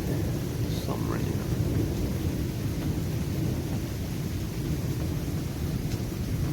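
Severe tornadic thunderstorm with only light rain: thunder rolls as a continuous, loud low rumble overhead that fills the whole stretch, with no distinct separate claps.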